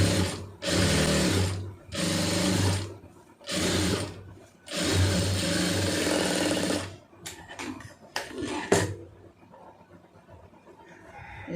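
A sewing machine runs in four loud, steady bursts while stitching a round neck, each separated by short pauses, followed by a few clicks and handling noises as it stops.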